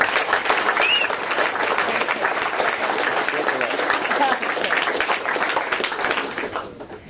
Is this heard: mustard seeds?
no